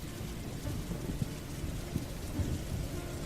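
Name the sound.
rain and thunder ambience sound effect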